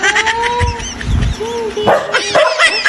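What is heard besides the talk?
dog barking angrily when the cats are called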